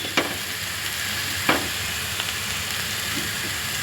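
Eggplant sizzles in hot oil with red chili powder, turmeric and salt, a steady close frying hiss broken by two sharp scraping clatters of a stirring utensil against the pan, with a few lighter knocks later.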